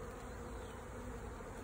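Honey bees hum around a newly installed top-bar hive, a dense, continuous buzzing drone from many insects close by, steady and fairly quiet with no voices.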